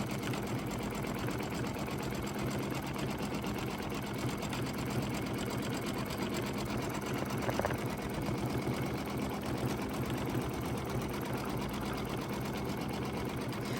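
A Brother Dream Machine sewing machine stipple quilts around a design on a quilt square, its needle running in a fast, continuous, even mechanical chatter up close.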